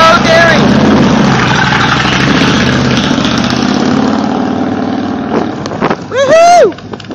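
A motorcycle engine idles with a loud, close, steady throb, then revs sharply in a brief rising surge near the end, with people's voices around it.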